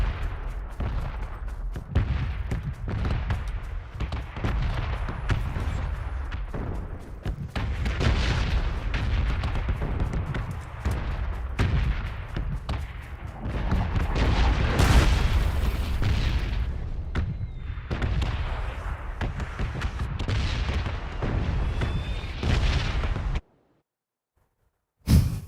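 Bombing-zone explosions in PUBG pound continuously, dense booming blasts and rumbles at close range, loud throughout, cutting out abruptly near the end before one final thud.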